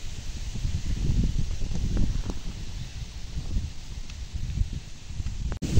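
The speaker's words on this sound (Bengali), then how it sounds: "এদিকে কিন্তু প্রচুর বাতাস করতেছে" Strong wind blows across an open grassy field lined with large trees, a loud, continuous low rumble buffeting the microphone, with rustling and a brief dip near the end.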